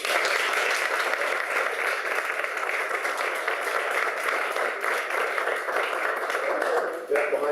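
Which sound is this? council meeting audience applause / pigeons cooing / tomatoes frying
council meeting audience applause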